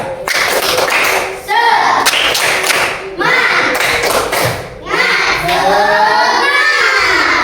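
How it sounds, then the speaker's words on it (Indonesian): Children in a classroom perform the tepuk semangat rhythmic clapping ice-breaker, giving loud bursts of claps and thumps in patterned groups, with young voices chanting along between and over the beats. "Tepuk semangat."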